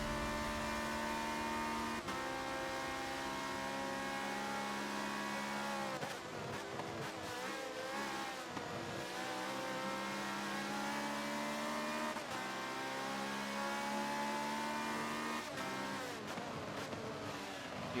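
DPI prototype race cars at Road America roar past in a dense, continuous engine drone with shifting pitch, several cars sweeping by in close succession, loud and unbroken throughout.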